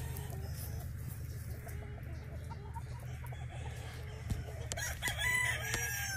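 A black giro rooster crows on a farm, a faint, distant call under steady low background hum, with a few sharper bird notes near the end.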